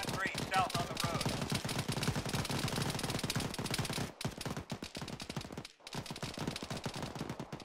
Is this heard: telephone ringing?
no